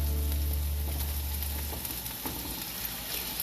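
Ground beef fries in a pan for a bean sprout stir fry, giving a steady, close hiss and sizzle that stays even throughout, with a low hum fading out early and no voices.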